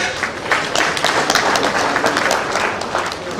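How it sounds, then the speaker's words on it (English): Applause from a forum audience, a loud, dense burst of many hands clapping together at an even level throughout, with no speech over it. "give yourselves a clap offering."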